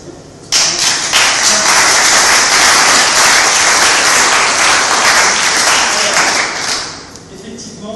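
A crowd of political supporters at a difficult election-night gathering breaks into loud, dense applause that swells abruptly, holds steady for several seconds, then tapers off with voices underneath.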